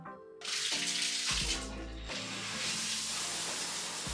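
Water gushes from a shower in a home bathroom, starting abruptly and then running steadily as a loud, even hiss, with a couple of brief knocks and splashes along the way.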